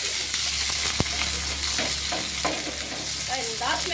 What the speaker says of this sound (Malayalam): നമ്മുടെ കറിവേപ്പിലയും കൂടി ഇട്ട് കൊടുക്കും അതും ഒന്ന് ഫ്രൈ ആക്കിയിട്ട്